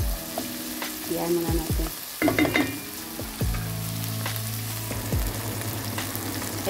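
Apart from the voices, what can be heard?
tomatoes frying in a pan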